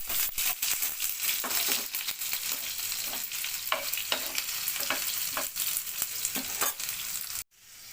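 Garlic frying in oil for dal tadka, a close, busy crackle with frequent sharp clicks and scrapes of a spoon stirring, steady throughout and then cutting off abruptly at the end; no voices.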